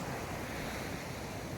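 Sea waves wash steadily onto the shore in front of a seaside hotel, a continuous broadband roar of surf with some wind rumble and no voices.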